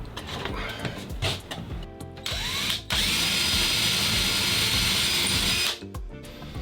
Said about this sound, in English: mark the places that I would be drilling holes for the bracket